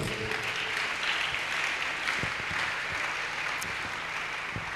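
A church congregation applauds together in a sustained, even wash of clapping heard from within the crowd, with no break across the stretch.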